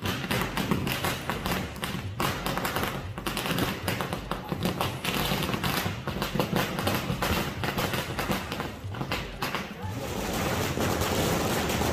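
Rapid, dense bursts of firecrackers popping and cracking in long irregular volleys at an election victory celebration in Guwahati, Assam, loud and sustained, with faint crowd noise underneath.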